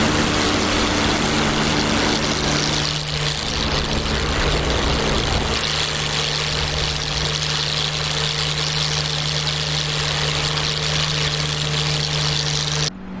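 The radial piston engine of a P-47 Thunderbolt in a flight simulator drones loudly and continuously with a steady propeller hum, its pitch dropping and settling partway through and then holding evenly until an abrupt cut.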